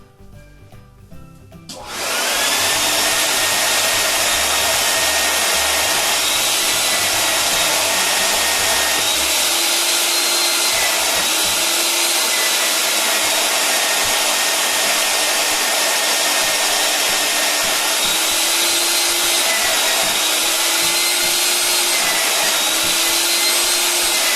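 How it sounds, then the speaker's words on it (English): A vacuum cleaner switches on after a moment and runs on carpet with a loud, steady roar, its pitch shifting slightly as it works, no voices. "Now the vacuum can make noise, so I'm not going to talk through this one section."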